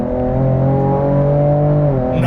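A 2024 Ford Ranger Raptor accelerates hard under load, its turbocharged engine droning loud and close with a steady tone. The pitch climbs slowly as the turbo spools up, and nobody talks.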